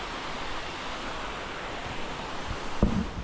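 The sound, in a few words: waterfall pouring into a small pool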